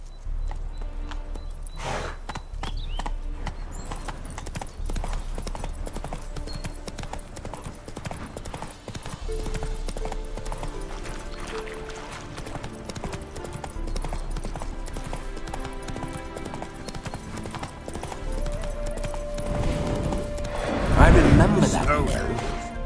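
Horse hooves clip-clopping throughout in The Witcher 3: Wild Hunt, the horse neighing as it is spooked by ghosts, game-style ambience and a voice talking over it, ending in a louder burst of noise.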